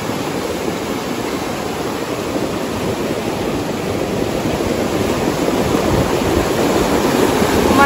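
A swollen river rushes loudly beside a landslide area, a dense continuous roar of churning water that holds steady and swells slightly toward the end, with no voices over it.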